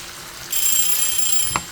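A kitchen timer alarm rings out with a thin, high, steady tone while pork adobo with coconut milk and noodles cooks, sounding suddenly and continuing over low background noise.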